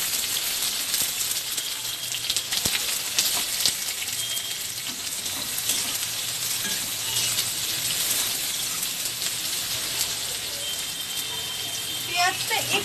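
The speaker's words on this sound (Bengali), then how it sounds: "এবার আমি দিয়ে দেব পেঁয়াজ, দিয়ে আমি একটু ভেজে নেব" Onions fry in hot oil with nigella seeds and chopped garlic, giving a continuous bright, crackling sizzle that stays close and even throughout.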